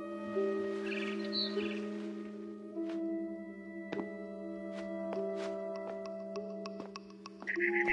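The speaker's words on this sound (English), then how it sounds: "Then I heard chirping outside my window." A barn swallow chirps outside a window in the video game What Remains of Edith Finch. Brief, faint high chirps come early and again at the end, over sustained musical tones and scattered ticking clicks.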